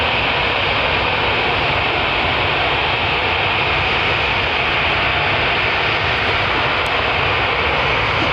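Jet2 Boeing 737-800 taxiing onto the runway at Manchester Airport, a loud, steady jet engine roar with a constant whine, sustained and unbroken throughout.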